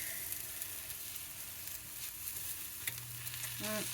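A sweet potato egg frittata sizzles steadily in a pan, a soft continuous frying hiss near and alone, with a brief low hum and clatter near the end.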